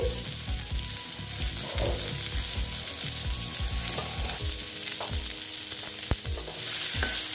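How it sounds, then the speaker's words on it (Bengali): Pointed gourd (potol) slices frying slowly over low heat in a covered pan, a continuous close sizzle broken by repeated scraping and stirring knocks from a utensil. "চিমটা আমি কমিয়ে দিয়েছি, কমিয়ে আস্তে আস্তে করে ভেজে নিচ্ছি"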